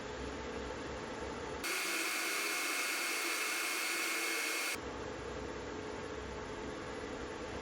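A newly swapped furnace blower motor runs as a steady broadband whoosh of airflow that swells louder for a few seconds and then drops back to a lower hum, continuous with no talking.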